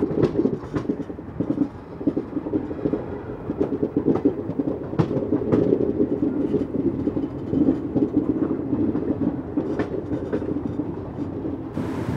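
A train rolls through Chennai Fort station on a single-line section toward Chennai Beach, with a steady loud rumble of wheels on rails and faint clacks running throughout, with no voices.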